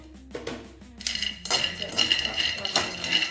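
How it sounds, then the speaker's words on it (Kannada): Almonds, cashews, pistachios and walnuts roasted in a pan, nuts clattering and rattling against the metal as they are tipped in and stirred, close and moderately loud in uneven bursts with a voice speaking alongside. "ಸೊ ಇದಕ್ಕೇ ಬಾದಾಮಿ ಗೋಡಂಬಿನ ಜೊತೆಗೆ ಮತ್ತು ಪಿಸ್ತಾನ ಜೊತೆಗೆ ಹಾಕ್ಕೊತೀನಿ, ಮತ್ತು ವಾಲ್ನಟ್ಟು ಒಟ್ಟಿಗೆ ಹಾಕೊಂಡು ಹುರ್ಕೊತೀನಿ"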